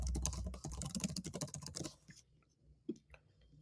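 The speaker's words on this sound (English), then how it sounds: "I'm clicking in front of you guys, by the way." Computer keyboard typing in quick, close bursts of key clicks for about two seconds, then a quiet pause with a single louder click.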